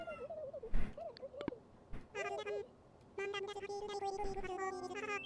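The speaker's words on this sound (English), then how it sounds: "Can you hear Jumbo meowing in the back?" A cat meows a few times, rising and falling, mixed with other nearby voices and squeaky vocal sounds, fairly quiet overall.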